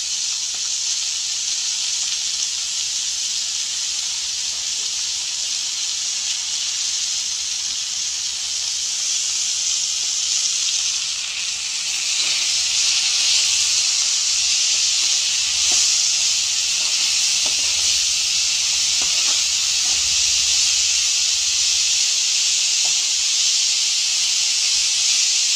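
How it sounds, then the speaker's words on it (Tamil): Mint and coriander sauté in a hot pan, giving a loud, steady hiss of sizzling that runs throughout, with a few faint clicks of stirring partway through. "புதினா, கொத்தமல்லி ரெண்டு வதக்கு வதக்கிட்டு"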